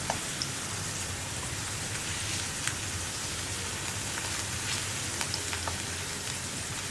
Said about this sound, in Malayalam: വെറുതെ പൊട്ടറ്റോ മാത്രം ഫ്രൈ ചെയ്തെടുക്കുകയാണ്